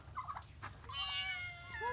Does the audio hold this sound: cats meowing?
yes